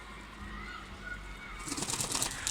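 Pigeons bathing splash and flutter in water, with soft coos and wing flaps growing busier toward the end, close by over steady background noise.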